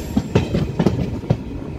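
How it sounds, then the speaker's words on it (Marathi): A train pulled by a diesel locomotive runs on the Bidar–Udgir line, its wheels giving a steady rhythmic clickety-clack over a continuous rumble heard from on board, with no talking. "मित्रांनो आपली ट्रेन आता उदगीरला आलेली आहे"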